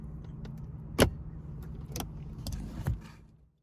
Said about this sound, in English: you're gonna hear click